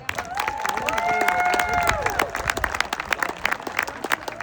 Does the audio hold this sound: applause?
yes